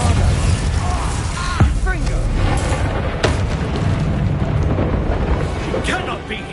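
Bombarda explosion spell in the video game Hogwarts Legacy: several dull booms and bursts go off amid rumbling combat effects and mechanical clatter, loud and dense throughout, with voices talking over it.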